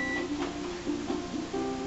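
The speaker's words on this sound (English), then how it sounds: "The timer's going off." An oven timer beeps in a short repeated pattern, clear tones sounding in evenly spaced bursts at close range against a quiet kitchen background.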